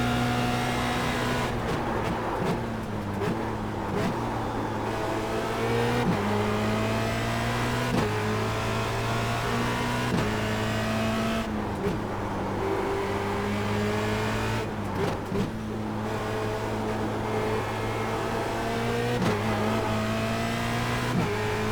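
A Formula Renault 2.0 race car at Zandvoort accelerates hard and continuously, its high engine note climbing through gears with brief shift dips, loud and close as from onboard, with no talk.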